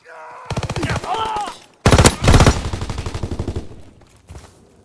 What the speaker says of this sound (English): Sperrfeuer!